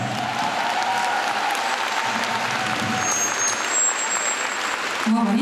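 A concert audience in a large hall in Minsk applauds at a pop show, a sustained, even roar of clapping filling the room without letup.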